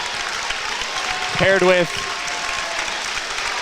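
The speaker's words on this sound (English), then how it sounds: "the seniors will come out to a round of applause by the Mountain Crest faithful" At a Mountain Crest versus Ridgeline high school basketball game, applause from the home crowd greeting the seniors rolls on as a steady background wash while an announcer's voice cuts in briefly.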